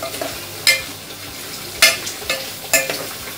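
Curry leaves and mint fry in a pan for vegetable pulao, with a gentle, steady sizzle broken by four louder bursts of crackling and scraping as the pan is stirred, close by and without speech.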